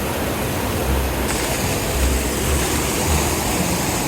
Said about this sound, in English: all of the water slides, all of the falls are here and down